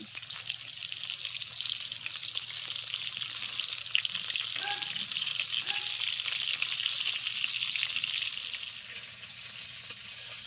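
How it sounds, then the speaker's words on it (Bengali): Pointed gourd (potol) fries in oil in a pan, a steady, close, hissing sizzle that crackles on without pause, with a few faint clicks and stirring touches. "ঢাকা দিয়ে দু তিন মিনিট ভেজে নেব"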